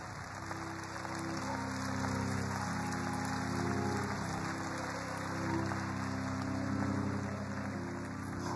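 A church congregation at an AME service applauds survivors, a steady wash of clapping from many hands under a continuous sustained organ or keyboard tone.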